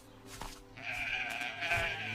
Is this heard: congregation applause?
no